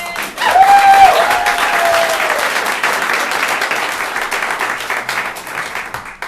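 A comedy club audience applauds steadily for several seconds as a performer comes on stage, loud at first then holding, with a brief whistle near the start.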